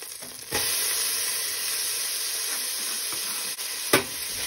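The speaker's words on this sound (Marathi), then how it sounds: "हांव आतां तितून बारीक चॉप करून पियाव घालता।" Finely chopped onion drops into melted butter in a hot pan and sizzles loudly and steadily, with a brief stir or clatter near the end.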